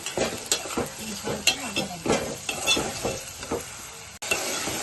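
Tomato pieces tossed into onions frying in oil, heard as a close, lively sizzle with repeated spatula scrapes and stirring strokes, ending in a steadier hiss.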